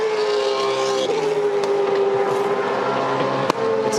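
V8 Supercar race cars at the 2013 Adelaide 500 street race: a loud, sustained engine drone holding a steady pitch, with brief pitch shifts as cars pass.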